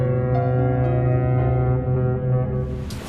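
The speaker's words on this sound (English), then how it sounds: "I can hear foghorns, so we must be close to the ocean." Deep, sustained foghorn blasts sound near the ocean, a loud steady low tone with layered harmonics that holds for several seconds before easing off, with a brief hiss toward the end.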